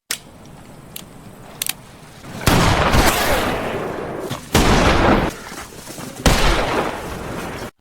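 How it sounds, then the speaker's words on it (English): Loud gunfire from a western film crashes in as several abrupt, heavy bursts, each echoing for a second or two, separated by quieter stretches with a few faint clicks. "Not long after, a shot was heard from Ketchum."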